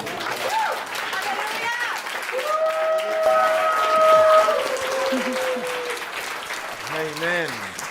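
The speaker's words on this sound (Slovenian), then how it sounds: "Dajmo en aplavz." A church congregation applauds during a sermon, a broad wash of clapping that holds steady under tonal sounds and voices, swelling in the middle before easing off.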